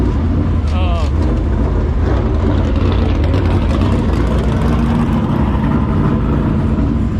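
Race car engine running at Magnolia Motor Speedway, a loud continuous roar with dense low rumble that holds steady throughout, with speech mixed in.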